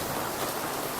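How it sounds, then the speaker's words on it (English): Rain falls steadily outside as a dense, even hiss with a soft patter on surfaces, continuous and moderately loud throughout, with no voices. "It's raining outside."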